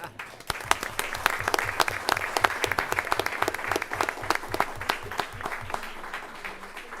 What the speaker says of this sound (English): let everyone clap for you